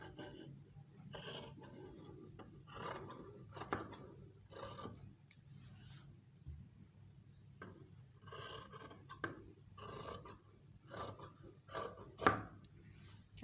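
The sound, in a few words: scissors cutting shirt fabric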